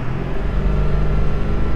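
A diesel truck with a 7.3 Powerstroke and upgraded 180cc injectors accelerating under throttle, giving a loud, steady, close engine rumble with a deep low drone that holds throughout.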